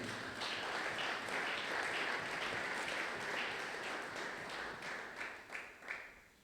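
A church congregation claps and cheers to acclaim the Lord during a Sunday praise and thanksgiving service, a sustained wash of applause that thins into a few scattered, fading bursts at the end.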